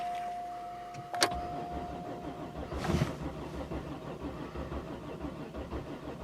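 A car's electric fuel pump gives a thin steady whine over low mechanical rumble, cuts off after about a second with a sharp click, then a quiet grumbling hum continues.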